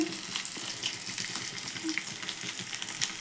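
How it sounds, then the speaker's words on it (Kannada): Paneer cubes fry in hot ghee with a steady, close sizzle, broken by light scrapes and clinks of a utensil in the pan, with no talking. "ತುಪ್ಪ ಬಿಸಿಯಾಗಿದೆ ನಾನು ಪನ್ನೀರ್ ಕ್ಯೂಬ್ಸ್ ಹಾಕಂತ ಇದ್ದೀನಿ"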